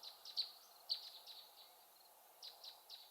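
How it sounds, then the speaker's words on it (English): Birds chirp faintly in the distance, short high tweets in scattered clusters with brief gaps, set against a quiet hiss. "I hear the birdies chirping."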